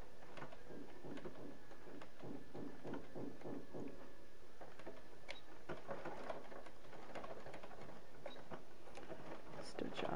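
A sewing machine stitches a seam on a wedding dress robe, giving a quiet, busy run of rapid mechanical ticking and whirring with uneven bursts that continues through the whole stretch.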